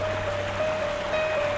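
Strong river current rushing through Governor's Rapids in Quirino Province, heard as a steady, loud broadband water roar that stays even from start to finish with no voices.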